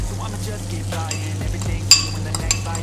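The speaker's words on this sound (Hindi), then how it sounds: "इसको 2-4 मिनट भूनेंगे" Soaked masala fries with onions and chicken liver in a pan, a low steady sizzle under repeated scraping and clinking of a spoon stirring close by.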